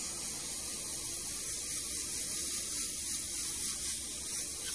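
An airbrush spraying paint onto a monotone portrait gives a steady, soft, even hiss that runs unbroken throughout at low level, with no pauses or talking.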